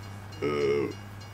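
A brief train horn sounds from a train in a farming simulator game, a short steady tone over a low background hum.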